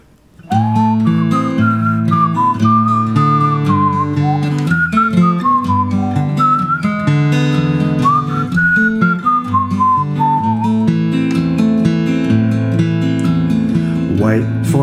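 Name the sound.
whistling imitating a Native American flute part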